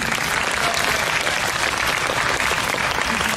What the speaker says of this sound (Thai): ขอเสียงปรบมือด้านตรงนี้ได้ไหมครับ